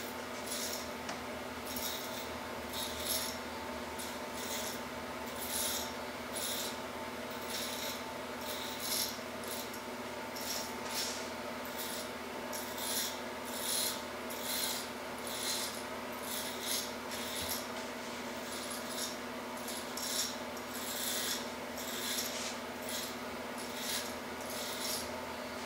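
Hair clippers fitted with a half-inch guard cutting hair during a brush cut with a fade, a steady electric hum broken by repeated rhythmic rasping strokes close to the listener.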